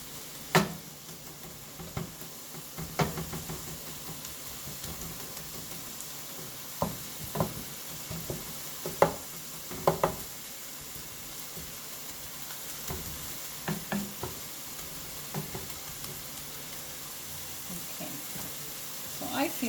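Ground beef browning with spices in a pan for Lebanese rice with beef and chicken, a low steady sizzle with scattered stirring clacks and scrapes, close and fairly quiet, no talking.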